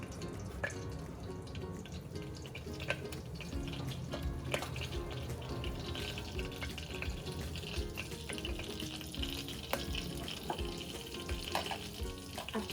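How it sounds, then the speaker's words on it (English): Cumin seeds sizzling in hot oil for a spicy vegetable khichdi, a faint, continuous crackle with scattered tiny pops over a low background hum. "We will add cumin seeds in hot oil."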